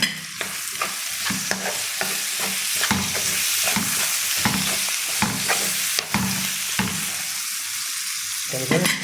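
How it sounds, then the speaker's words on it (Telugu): Tomatoes fry in a pan while being stirred, a constant loud sizzle broken by repeated scraping and knocking strokes of the spoon against the pan at a steady, uneven pace. "ఇప్పుడు టమాటా వేస్తాను ఫ్రెండ్స్ చూడండి"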